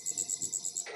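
Crickets chirping in a quick, regular series of about seven bright, close pulses that stop abruptly near the end, set against quiet background.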